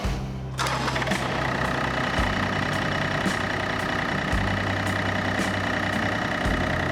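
A John Deere 955 compact tractor engine starts with a burst and settles into a steady, loud, close idle, with throaty low pulsing and a rattling mechanical clatter throughout.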